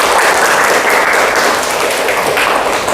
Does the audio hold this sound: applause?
yes